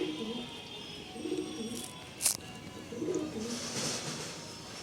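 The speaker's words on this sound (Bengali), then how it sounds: "আপনাদেরকে আরও এক জোড়া পায়রা দেখাচ্ছি আপনাদেরকে" Silver-coloured pigeons in a loft cooing softly in low murmurs, with a sharp brief rustle or wing flutter midway.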